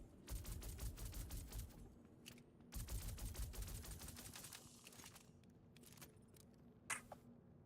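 Rapid pistol gunfire in the video game Star Citizen, bursts of sharp repeated shots in quick strings that pause and resume, with a louder isolated crack near the end, all fairly close.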